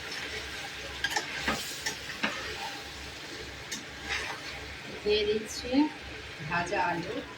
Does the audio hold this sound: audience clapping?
no